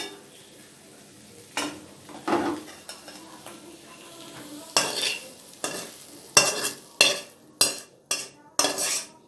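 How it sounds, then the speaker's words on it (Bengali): Scrambled egg frying in a pan while being stirred, with a light sizzle and sharp metal utensil scrapes and taps that grow quicker and louder toward the end, close by and without speech. "এটা আমি ঝুড়ো করে ভেজে নেব।"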